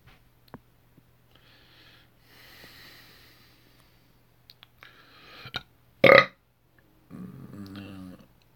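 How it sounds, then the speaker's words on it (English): A man lets out a loud, rough belch in one short burst, preceded by quieter breathing and faint room sounds, with some low murmuring afterward. "He belched on a live stream."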